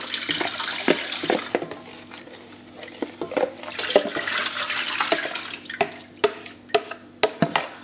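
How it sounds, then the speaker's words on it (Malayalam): Homemade coconut milk poured into a cooking vessel for making coconut oil, a splashing liquid stream that breaks into separate drips and trickles toward the end, close by and without speech. "ആ തേങ്ങാപ്പാൽ നേരെ നമുക്ക് ഇതുപോലൊരു പാത്രത്തിലേക്ക് ഒഴിക്കാം"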